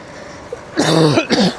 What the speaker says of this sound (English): So forgive the cough. That was not timed on purpose.